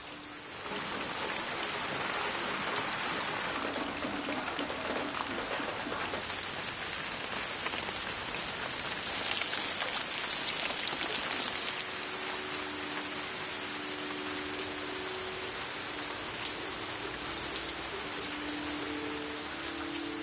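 Steady rain falls on surfaces, a dense unbroken hiss of drops that swells briefly louder midway and then settles back to an even patter.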